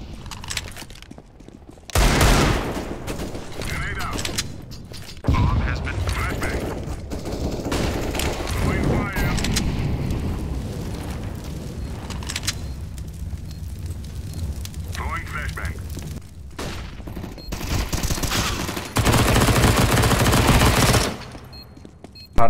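Bursts of automatic rifle fire in the shooter CS:GO, loud rapid volleys that start and stop in several sharp bursts, mixed with game noise and people talking over it.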